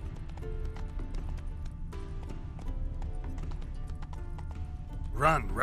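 Rhythmic hoofbeats of a heavily loaded horse in The Witcher 3: Wild Hunt clop steadily under a low rumbling background, ending with a brief horse whinny-like cry near the end.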